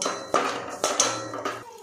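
A spoon scrapes and clinks against a bowl while mixing a sabudana and potato mixture with fasting salt, giving a few sharp, close metallic knocks at an uneven rhythm.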